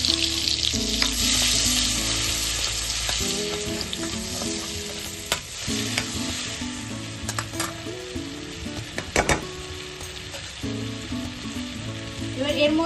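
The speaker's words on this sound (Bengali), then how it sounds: "ওই কড়াইতে ওই তেলেই আমি একটুখানি বাটার দিয়ে দিচ্ছি" Butter sizzles in leftover oil in a wok, a loud, continuous close frying hiss with a few utensil clinks and stirring scrapes scattered through it, and no talking.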